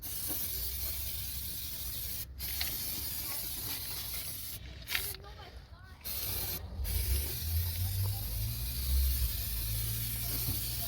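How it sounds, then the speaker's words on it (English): A steady aerosol hiss of brake cleaner sprayed from a can onto rusty car bodywork runs nearly continuously, broken by a few brief pauses, with a low mechanical hum rumbling underneath. "So first we're gonna spray this brake cleaner."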